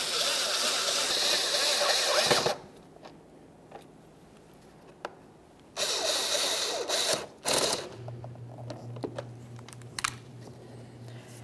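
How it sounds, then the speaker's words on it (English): Phillips head screws driven into a Kia Forte Koup bumper cover, quick rattling bursts of ratcheting and driving noise broken by quieter gaps, then a steady low hum with light clicks, close up. "Now it's time for our two Phillips head screws."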